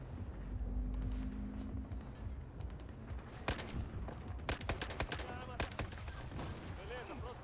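Gunfire in Battlefield 4 near a naval ship, with a string of sharp shots and short bursts over low rumbling engine and wind noise. Voices talk underneath.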